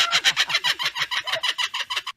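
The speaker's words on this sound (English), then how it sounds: "Another quite unusual bird you can find in Australia is so-called laughing bird." An Australian kookaburra's laughing call, a loud, close run of rapid rhythmic cackling notes repeating steadily with no talking.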